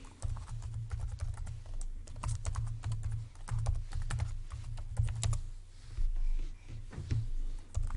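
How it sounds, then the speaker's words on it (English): Steady typing on a computer keyboard while logging into a remote desktop: quick, close clicks and key thumps in an irregular run with brief pauses, alone with no talk. "Apparently I typed something incorrectly here."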